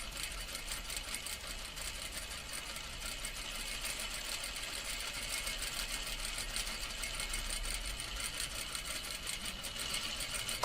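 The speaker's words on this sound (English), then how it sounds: "stitch right along the edge of the fabric" A sewing machine stitches along the edge of the fabric with a steady, continuous whirring hum and fast needle clatter that runs unbroken and holds a fairly even level throughout.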